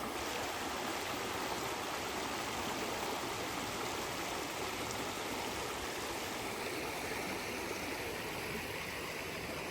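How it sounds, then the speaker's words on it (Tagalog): A mountain river rushes beside a hiking trail, a steady, broadband roar of flowing water that is close and constant, with no voices over it. "Nakaka-relax yung tunog ng"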